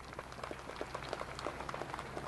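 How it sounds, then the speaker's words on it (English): Applause at an outdoor rail trail dedication ceremony for the Deputy County Executive: a steady patter of many hands clapping, moderately distant and fairly quiet, with no talk over it. "How about a nice round of applause for the Deputy County Executive?"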